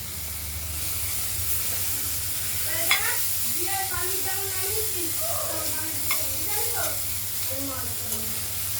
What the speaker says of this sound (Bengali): এইভাবে ধীরে ধীরে আমরা ঢাকনা খুলে নাড়া দেবো, নাড়া দিয়ে আবার ঢাকনা দিয়ে দেবো।